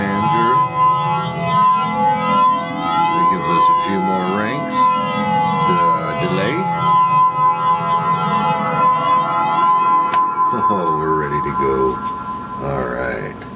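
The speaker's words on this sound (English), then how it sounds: "The flanger." Toy keyboard run through flanger and octaver effects: a held, organ-like tone with a deep sweeping, siren-like whoosh plays continuously and loud, with shifting pitches and a few jumpy notes near the end.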